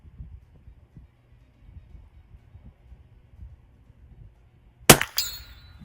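One sharp, loud crack from a Mossberg 142a rifle near the end of a quiet stretch, trailed by a brief ringing decay over faint low background noise.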